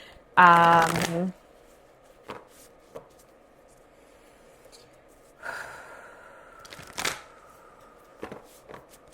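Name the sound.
shuffling Archetypes oracle card deck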